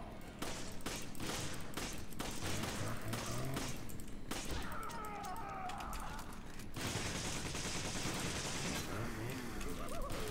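Bursts of gunfire in the video game Resident Evil 5, rapid dense shots and heavier blasts in quick succession, mixed with game effects and a mid-section of shrill noise, with faint voices in the background.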